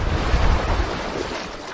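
Water washing at a shore, with loud close surf rush and blustery wind noise on the microphone.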